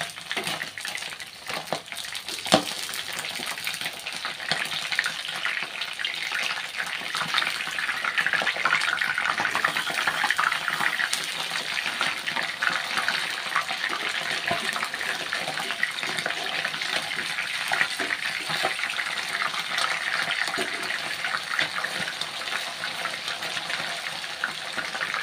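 Daing (dried fish) frying in plenty of oil: a continuous, fairly loud hiss and crackle of sizzling grease, steady for the whole stretch with scattered small pops and no talking.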